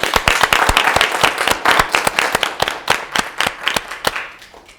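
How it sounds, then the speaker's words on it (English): Warm applause for volunteers at a virtual gala show, heard as distinct individual claps in a fairly close, uneven rhythm. It starts strong, then thins and fades toward the end with no talking over it. "Please join me to give a deserved warm applause to all our volunteers"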